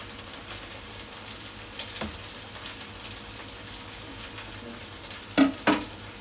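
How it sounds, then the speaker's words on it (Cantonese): Chicken steak fries in a pan with a continuous, even sizzle, steady and close throughout, broken near the end by two brief clinks or knocks. "咁個雞扒咧，我由得佢煎啦。"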